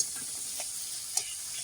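A spice paste of ginger, cumin, tomato and sugar sizzles softly in a pan, with a steady faint hiss and one or two small clicks of stirring, no voices over it.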